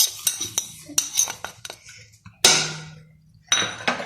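A large spoon stirs dried coriander, cumin, thyme and salt together in a bowl, making scattered metallic clinks and scrapes up close, with one longer grinding stroke and a brief pause between bursts.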